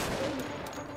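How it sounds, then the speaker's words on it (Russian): A single sharp sniper rifle shot rings out in Wolfenstein: The Old Blood, loud and close with a short, hissing tail. "Ну, это снайперская винтовка, все правильно."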